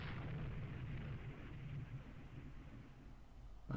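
Very faint, distant rumbling of naval gunfire in the Rule the Waves II warship game, a low continuous roar of overlapping shots at point-blank range, with a slightly sharper burst right at the end.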